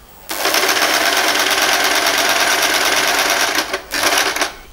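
Sewing machine stitching a child's frock, a loud close rapid mechanical whir running steadily for about three and a half seconds, a short pause, then another brief burst of stitching.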